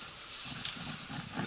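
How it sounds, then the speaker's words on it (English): A steady, close hiss of aerosol spray paint in cold weather on a Ford Ranger, briefly dipping before resuming. "It's like spraying a fucking hose pipe, Charlie."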